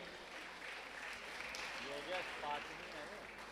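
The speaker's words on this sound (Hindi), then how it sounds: "आप इनके भावों की अनुमोदना के लिए आप जोरदार ताली बजाकर का सम्मान करें" Steady applause from a crowd at a religious discourse event in Indore, a dense wash of clapping with a voice rising briefly over it near the end.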